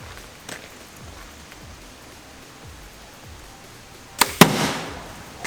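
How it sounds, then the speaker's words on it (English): A sharp, sudden impact as an arrow from a compound bow strikes truck metal near the end, followed by a second hit and a brief ringing rattle after a quiet stretch. "That arrow was way faster. That Rage punched through."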